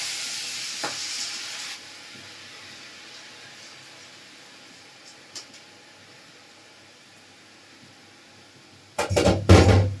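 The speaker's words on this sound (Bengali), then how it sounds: "এই ধনেটাকে ভাজবো।" Coriander seeds fry in a pan on low heat: a faint, quiet hiss lingers for several seconds before a sudden loud burst of crackling sizzle erupts at the end.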